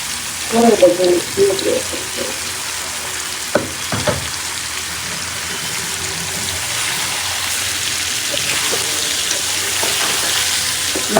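Meat sizzles in a hot pan with browned onions and spices, a steady loud hiss that swells toward the end, with stirring clatter and a few knocks early on.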